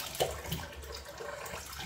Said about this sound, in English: I'm gonna rinse the mush with warm water.